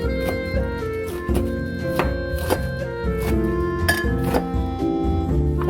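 Squeezed kimchi chopped into small pieces with a knife on a board: a brisk series of sharp, close knife taps and clinks in an uneven rhythm, with no talking.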